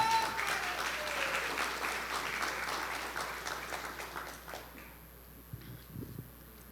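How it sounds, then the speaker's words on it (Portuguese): Church congregation applauding during a sermon, a broad wash of clapping that thins and fades out over several seconds into near quiet, with a couple of faint knocks at the end. "Se você crê, pode aplaudir ao Senhor."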